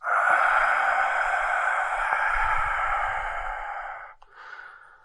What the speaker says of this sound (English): when you breathe out, it should vibrate low in the throat.